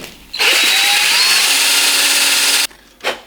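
Power sander working on the wooden handle section of a broken fishing rod, a loud steady whirring grind running about two seconds before cutting off, then a brief soft knock.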